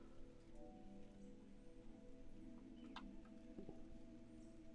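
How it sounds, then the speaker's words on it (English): Gentle rain in the video game Antichamber makes a soft, steady patter under a faint low hum, quiet and continuous with no voices. "I like the gentle rain."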